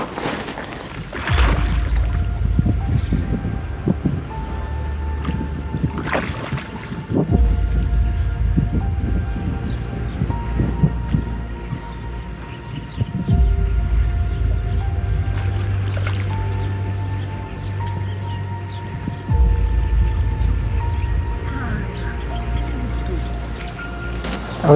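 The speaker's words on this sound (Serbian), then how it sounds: "ovaj vetar je počeo baš jako da duva" Strong wind gusting at a lakeside fishing spot on a warm day, heard as a heavy, low buffeting rumble against the microphone that rises and falls in waves, with faint background tones throughout.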